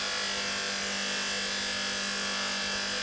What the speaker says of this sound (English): on the coarse polishing wheel, we're not looking to over polish this